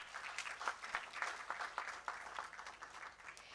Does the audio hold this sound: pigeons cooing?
no